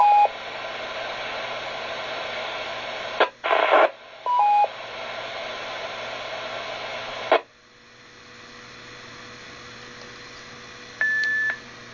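Amateur radio traffic on the 430.200 repeater: a hissing, crackling carrier with short tone bursts and beeps, breaking off abruptly to quieter noise before another brief tone.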